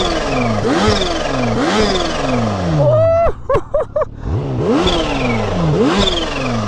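A Kawasaki Ninja H2 motorcycle on its stock exhaust revs loudly up and down in repeated sweeps, with a brief rapid fluttering chatter between revs, close and dominant.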